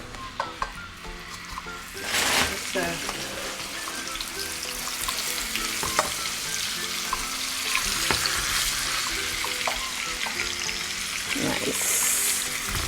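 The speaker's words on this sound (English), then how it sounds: "I'm hearing a little sizzle" Skin-side pieces sizzle steadily in a hot frying pan, a continuous crackling hiss with occasional louder bursts and clinks as the food is moved and laid out.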